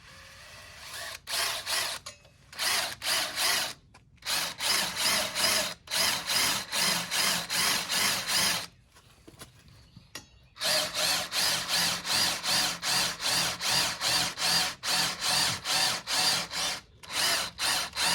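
A power drill bores a bolt hole through a metal bracket for a Giannelli pipe on a Derbi, running in short loud bursts with brief pauses between them and a longer stop midway.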